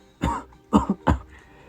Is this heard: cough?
yes